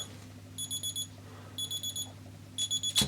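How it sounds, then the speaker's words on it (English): Bursts of rapid high-pitched electronic beeping from a TokyoFlash Kisai Adjust LED watch alarm, repeating in groups of four with short pauses, fairly faint over a steady low hum. "So let's just hear what the alarm sounds like."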